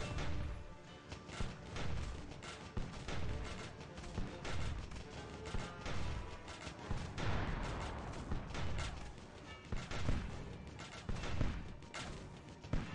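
Heavy booming cannon fire and explosions rumble repeatedly in the video game Steampunk Tower 2, a dense, chaotic barrage, loud and continuous with crashing impacts.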